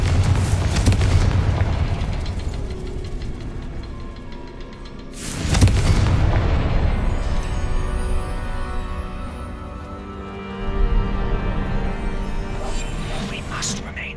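Confringo fire spell cast in the game Hogwarts Legacy, two heavy booming blasts several seconds apart with rumbling tails and a third softer burst, over continuous game ambience.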